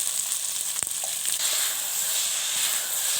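Shredded cabbage with salt and turmeric fries in a pan, giving an even, continuous sizzle close by, broken by one sharp knock of a utensil against the pan and faint stirring; nobody speaks.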